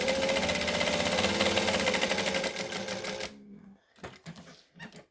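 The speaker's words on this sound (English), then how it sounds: "So now I'm just going to top stitch the 2 edges." A domestic sewing machine top stitching the edges of a fabric clutch runs in a steady, rapid mechanical stitching rhythm for about three seconds, then stops, leaving a few short clicks and handling noises.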